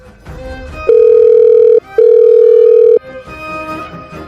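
A telephone busy tone after a call, loud and close, sounding as two long steady beeps with a short gap between them, with faint background sound before and after.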